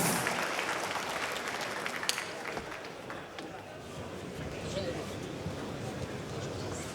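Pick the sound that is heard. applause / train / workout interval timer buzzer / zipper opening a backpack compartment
applause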